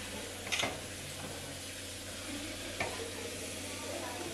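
Chicken frying in hot oil in a pressure cooker gives a faint, steady sizzle, with a couple of brief stirring clinks standing out.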